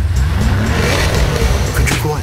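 A 2014 BMW M6 engine rumbles loudly and continuously up close, a deep steady revving roar with some higher whine creeping in toward the end.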